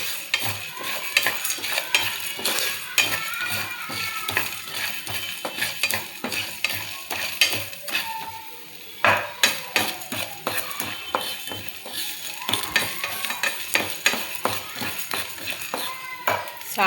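Coriander, cumin, black pepper, fenugreek and ajwain seeds dry-roasting in a pan, with steady close scraping and stirring, light rattling and occasional metallic clinks from a spoon against the pan.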